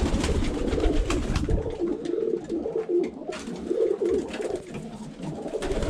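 Yellow roller pigeons coo in soft repeated rolling calls close by, several birds overlapping with faint rustling and no talking.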